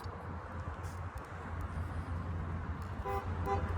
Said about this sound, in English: The young people are the ones that are honking.